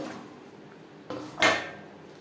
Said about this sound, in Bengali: এবার আমি ছোট ছোট টুকরো করে